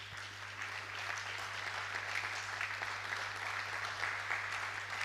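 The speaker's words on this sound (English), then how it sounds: "Let's clap for them." Steady applause from a church congregation during a Sunday service, a continuous wash of clapping held at an even level, with a low steady hum running underneath.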